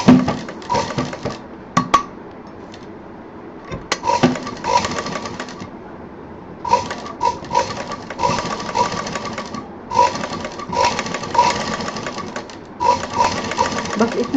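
Sewing machine stitching along fabric trimmed with sequins and beads, running in short bursts of rapid mechanical chatter separated by brief pauses, close and fairly loud.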